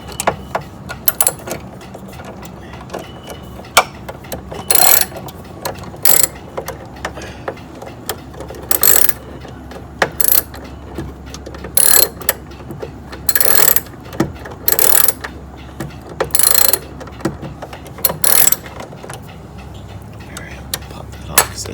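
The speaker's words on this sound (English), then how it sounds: "we got a 12 millimeter socket here" A ratchet with a 12 mm socket works a nut loose on a Honda EU7000is generator, giving repeated bursts of close, loud ratcheting clicks separated by short pauses.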